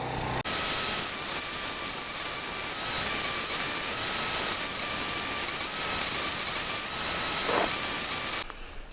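Metal being cut off a trailer part during a trailer repair: a steady, loud, hissing cut with a whining ring that runs unbroken for about eight seconds and then stops abruptly.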